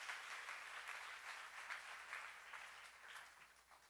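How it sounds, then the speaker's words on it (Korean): A congregation applauds during a church sermon, a soft, steady wash of many hands clapping at some distance. "박수."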